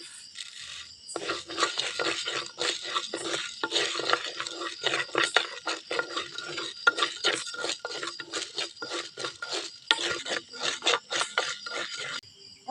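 Lentils dry-roasting in a pan for a Tamil pirandai thuvaiyal, with steady stirring scrapes and light rattles of dal against the pan throughout, close and moderately loud, no talk.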